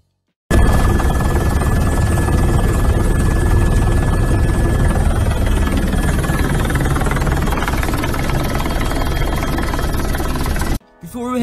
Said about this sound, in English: This plane flies underneath a helicopter.